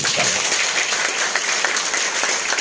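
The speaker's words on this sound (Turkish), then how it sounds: "İzmir eski il başkanımız Sayın Rıfat Nalbandoğlu'na bir alkış istiyorum" A crowd at a political party meeting applauds a former provincial party chair, producing a loud, dense, continuous wash of clapping from many hands with no break.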